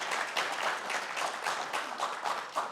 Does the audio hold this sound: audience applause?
yes